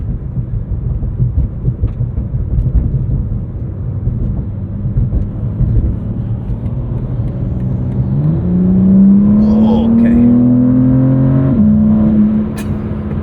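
A 2023 BMW M4 CSL engine roars under highway road noise, then climbs sharply in pitch as it accelerates hard at about 40% throttle, loud and close, before easing off.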